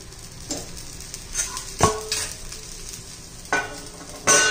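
Wheat flour chilla fries in a pan with the lid on, giving a soft steady sizzle broken by a few sharp clinks and scrapes of utensils and lid against the pan.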